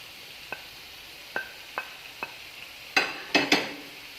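Chicken and chopped tomato fry in a pan: a few light taps of a utensil come first, then loud bursts of sizzling crackle up close.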